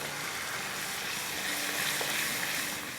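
Ginger and garlic paste fries in a pan for Kashmiri chicken masala, giving a steady, soft hiss of sizzling oil with no voices.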